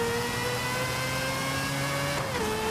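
A car in Forza Horizon 5 accelerating at full throttle toward 322 km/h, a sustained whining engine tone climbing steadily, then briefly dipping as the gear shifts before pulling on.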